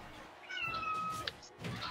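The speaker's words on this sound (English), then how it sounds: "I think that was my cat." A house cat meows partway through, a short, fairly clear call rising over a quiet room background with faint game sounds.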